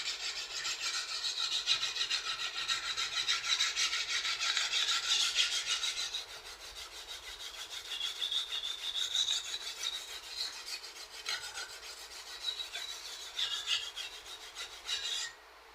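Japanese kitchen knife being sharpened on a whetstone, a steady close rasping scrape of steel on wet stone, continuous strokes that grow briefly quieter mid-way then resume until stopping at the end.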